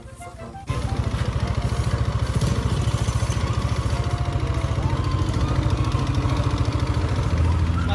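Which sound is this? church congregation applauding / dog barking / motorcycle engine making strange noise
motorcycle engine making strange noise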